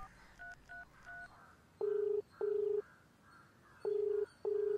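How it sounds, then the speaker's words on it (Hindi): Telephone keypad tones beep in two quick bursts, first three short high double-tones, then four longer, louder tones in an uneven rhythm. "फोन करके देखता हूं"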